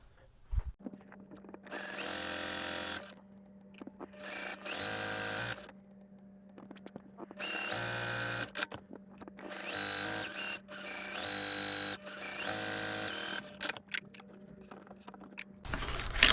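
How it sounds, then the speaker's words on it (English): A sewing machine stitching quilt seams in repeated bursts, its needle running in fast mechanical chatter with short pauses between runs and a steady motor hum. "Now we'll take these to the sewing machine and we're going to sew that scant 1/4 inch"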